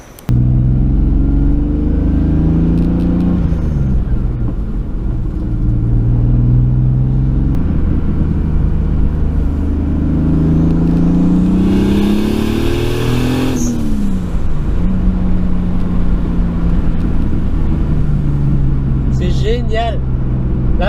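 A turbocharged BMW E46 328 with an external wastegate accelerates repeatedly on a test drive, its engine note rising through the gears loud and close inside the cabin, with a whoosh of boost between pulls.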